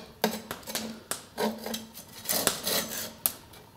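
A bookbinding knife scrapes soot and debris out of a clogged wood-burning stove in a house, with a series of close, rough rasping strokes in an irregular rhythm.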